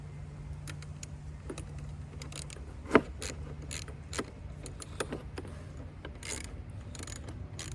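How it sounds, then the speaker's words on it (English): Hardware being tightened on the secondary air (smog) system of a 2007 Cadillac DTS, heard as sparse metallic clinks and ratchet-like clicks, with one sharper clack, close and fairly quiet over a low steady hum. "So you can tighten up your hardware."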